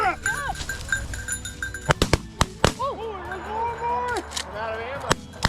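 Shotgun blasts while hunting flushed pheasants in upland cover: a few sharp, loud cracks around the middle and one near the end, among tonal cackling calls.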